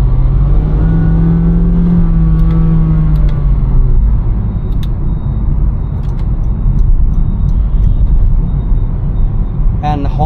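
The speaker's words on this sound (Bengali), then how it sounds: "So first gear and then you guys can hear the VTEC kicking on." Honda car engine pulling hard in first gear as VTEC engages around 5000 RPM, a loud, close rising engine roar heard from inside the cabin that falls to a steady rumble after the shift.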